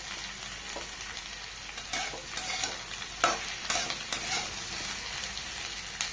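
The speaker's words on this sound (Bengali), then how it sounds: "পেঁয়াজ বেগুন আলুর সাথে ভাজা হয়ে গেছে।" Onion, eggplant and potato fry in a pan with a steady low sizzle while a spatula stirs and scrapes, giving several sharp clicks in an uneven rhythm toward the middle.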